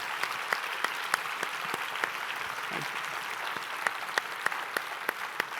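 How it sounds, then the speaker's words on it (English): Applause from the crowd at an Adobe InDesign special event: continuous broad clapping from a large audience, with a few sharper individual claps standing out near the front, steady and moderately loud. "Big round of applause"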